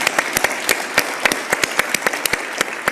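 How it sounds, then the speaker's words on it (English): Applause from a business community audience at a Calgary budget event, crisp individual claps clearly audible within a steady ovation, close and fairly loud throughout. "let's give everyone a round of applause"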